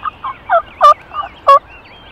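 Wild turkeys gobble outdoors at close range, about five or six loud warbling calls in quick succession with brief gaps, with no talk.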